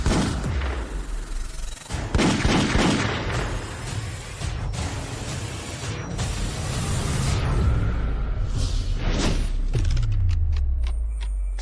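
A gunfire volley in a dramatic fight scene unfolds as dense, loud booming bursts and cracking shots, layered with rumbling impacts and continuing almost without pause.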